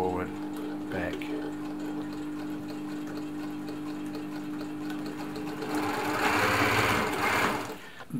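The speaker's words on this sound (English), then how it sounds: "sewing straight now, but it's still, it's doing the stretch stitch" An Elna Air Electronic TSP sewing machine runs a stretch stitch at stitch length 2 with the needle in the right position, giving a steady close mechanical whir that speeds up and grows louder near the end.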